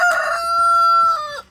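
A rooster crows once nearby, a loud sustained call that holds steady and then drops off sharply at the end.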